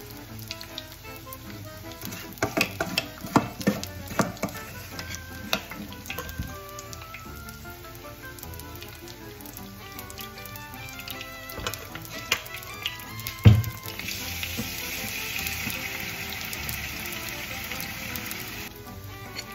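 Sweet potato fritters in batter sizzle and fry steadily in a hot pan, with a continuous crackle, some sharp taps and clatters of a utensil in the first half, and a brighter hiss building near the end.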